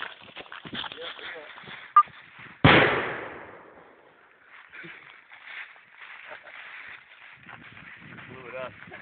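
A safe is blown up with one sharp, loud blast and a long rumbling decay, preceded by a short crack; voices talk and move about before and after.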